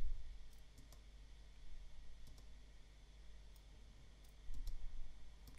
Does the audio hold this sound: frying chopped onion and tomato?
no